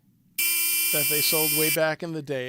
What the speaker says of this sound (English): a little battery-operated ray gun